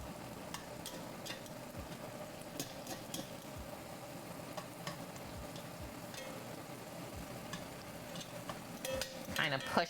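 Chopped garlic fries in hot fat in a pan for a German beef rouladen meal, giving a steady close sizzle with faint scraping and clinks of stirring, louder near the end.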